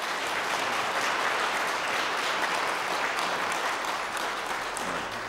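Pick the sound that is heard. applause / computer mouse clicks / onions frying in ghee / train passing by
applause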